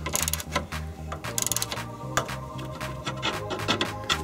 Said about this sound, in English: we remove the rear shock lower mounting bolt